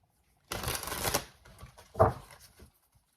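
Hush Tarot cards being riffled and shuffled by hand, a close crisp burst of flapping card noise followed by a shorter second shuffle and a soft tap, quiet setting.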